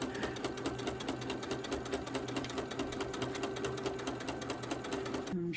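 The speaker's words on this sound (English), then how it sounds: "I'm stitching this with the walking foot, and I'm just using this as the guide along the blue border" Sewing machine with a walking foot stitching along a blue quilt border, a steady, fast run of needle strokes close by that continues without pause, then stops abruptly at the end.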